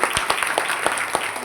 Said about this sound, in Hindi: जोरदार ताली बेटी के लिए।